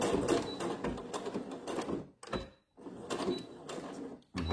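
A sewing machine runs in quick bursts of rapid mechanical stitching on a small fabric keychain bag, with a brief pause between a forward run and a reverse run.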